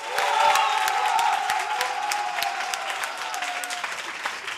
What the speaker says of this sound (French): Merci à toutes les go de Port-Boué qui vont encore s'applaudir très fort.